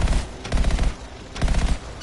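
Rapid bursts of automatic gunfire in the game Anthem rattle loudly in two clustered volleys, dense and close, with no talking.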